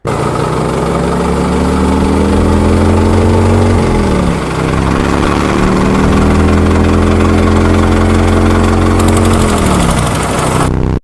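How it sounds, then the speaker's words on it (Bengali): A cartoon car's engine drones loudly and steadily, its pitch dipping and climbing as it revs up to take off in a race, with no voices over it. "এমন জোরে গাড়ি ছাড়বো তুই আমার ধারে কাছেও থাকতে পারবি না"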